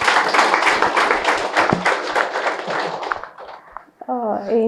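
Applause for the organiser at an indoor one-day workshop, many hands clapping steadily at close range while a voice speaks over it, the clapping tapering off before the talk continues alone.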